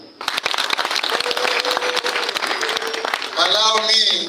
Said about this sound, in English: Now let us clap for Nira.